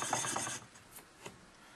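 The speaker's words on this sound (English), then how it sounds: "I'm going to go ahead and finish it on the sandpaper" An object scraped back and forth on sandpaper, a close, coarse rasping burst followed by a couple of lighter, fainter strokes.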